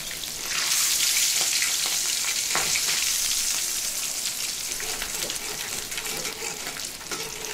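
Fish sizzles and spatters steadily in a hot frying pan. The crackle is loud, dense and continuous from start to finish, with faint stirring noises and no voices.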